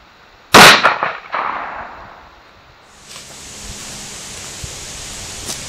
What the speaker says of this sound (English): Next, shooting the Thompson Center 308 with cellular and billet ammunition, 147 grain full metal jacket.